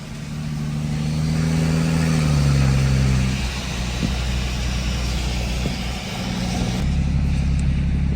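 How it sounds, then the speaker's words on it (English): Big-turbo BMW M535i engine gearing down during a drive, heard from inside: a loud, deep droning exhaust that falls in pitch through downshifts, with steady low rumble throughout. "This car sounds like a beast when it's gearing down."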